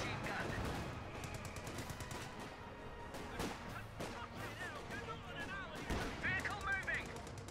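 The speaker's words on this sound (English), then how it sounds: "Opening fire on enemy machine gun." Machine gun bursts and heavier artillery fire in a Company of Heroes 2 battle between British and German forces, dense overlapping shots throughout with a louder crash near the end, game voice lines spoken over the combat.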